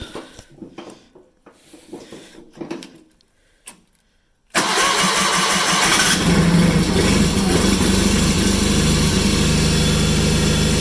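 A 1987 John Deere 318 lawn tractor cranks after a few quiet clicks and shuffles, then its engine catches and settles into a steady, loud running drone that continues to the end.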